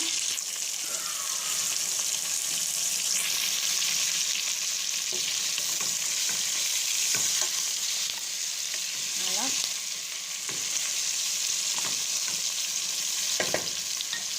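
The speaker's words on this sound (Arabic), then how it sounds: "زوج سنينات توم مع بصلة موين، نخليهم يتقلاو هكذا" Garlic cloves and onion fry in a pan, giving a steady bright hiss and sizzle throughout, broken by occasional stirring scrapes and soft clicks.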